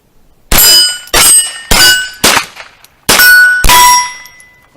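A string of gunshots fired from a pistol with a 20-round magazine, six sharp loud cracks, each with a ringing metallic tail, coming at uneven intervals with a short pause before the last two.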